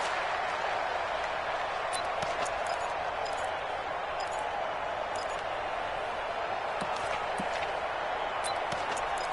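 Stadium crowd noise in a PS4 football video game, a dense, steady roar of cheering and murmur that stays loud and unbroken throughout, with faint scattered clicks over it.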